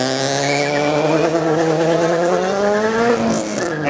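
A naturally aspirated Toyota 86 drag race car revs loudly and steadily close by, its engine tone climbing in pitch as it builds, with a brief burst of tire squeal near the end.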